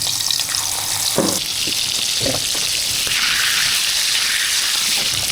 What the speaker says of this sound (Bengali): কড়াটা গরম হোক, তেলটা আর একটু দিই, অনেকগুলো মাছ আছে, দুটো করেই দিই।